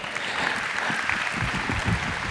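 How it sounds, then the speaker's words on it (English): Crowd applause in a Tesco store in Birmingham after a quiz winner, a steady wash of clapping from a small group, moderately loud and continuous throughout. "Give him a round of applause, yeah."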